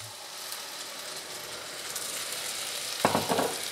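Pinot Grigio white wine poured into a hot pan of vegetables, a steady hiss of sizzling that swells into a louder crackling burst near the end.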